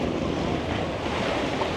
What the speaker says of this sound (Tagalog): January na ang alon pa rin sa Boracay.